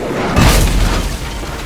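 A ship's cannon fires in the pirate adventure game Tales of Monkey Island, one loud, close, deep boom with a short rumbling tail and no voices.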